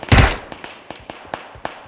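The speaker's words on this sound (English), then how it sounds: "Suppressing fire." Gunfire in the PUBG Mobile battle royale game: one loud close burst of shots, then a string of sharp, sparser single shots and short bursts spread across two seconds, with no talk over them.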